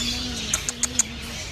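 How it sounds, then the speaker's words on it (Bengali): Four quick, high chirps from small birds, close together and faint, over a low steady hum. "আর এগুলো ছোটো ছোটো পাখি।"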